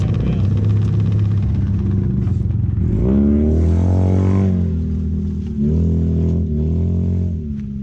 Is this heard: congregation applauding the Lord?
no